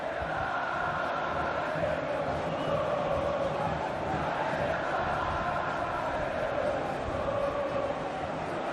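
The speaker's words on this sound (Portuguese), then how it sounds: "Tá animada a torcida do Vasco" Vasco supporters in the stadium during a Campeonato Carioca match against Botafogo: a dense, steady crowd roar with rising chants, heard at a distance under broadcast commentary.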